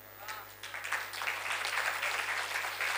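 Audience applause at a Hindi poetry recital, a steady broadband patter of many hands filling the space for a few seconds with no voices over it.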